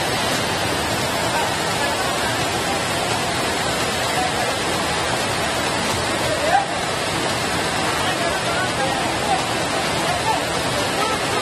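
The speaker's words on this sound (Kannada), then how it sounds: "ರಭಸವಾಗಿ ಹರಿತಿರೋ ಮಳೆಯ ನೀರಲ್ಲಿ ವ್ಯಕ್ತಿಯೊಬ್ಬರು ಸಿಲುಕಿದ್ರು" Heavy rain and floodwater roar steadily at the flooded oil pond of the Sri Renuka Yallamma hill temple, a loud, dense, unbroken rush of water that never lets up.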